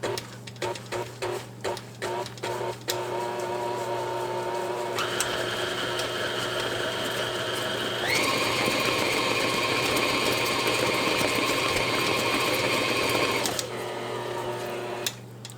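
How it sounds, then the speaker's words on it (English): Electric mixer running on low to mix Italian cream cake batter, a steady motor whine that shifts pitch and intensity midway, after a few clicks and knocks. "I always put it in the mixer and just put it on low"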